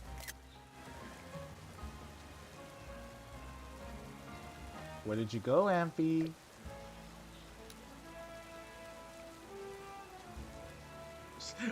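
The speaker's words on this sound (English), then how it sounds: "In the middle of the rain, too." Steady rain falls in the video game Pokemon Legends Z-A, a continuous soft patter under game music while a person speaks briefly.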